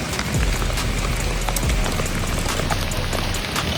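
Heavy rain pouring down close by in the mountains, a loud, dense hiss dotted with sharp drop impacts and a couple of low thuds.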